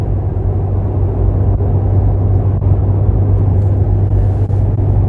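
A Cadillac ATS-V cruises along I-75 near Smyrna, Georgia, heard from inside the cabin. Its exhaust makes a steady, low, droning hum, with a strong, even rumble and no talk over it.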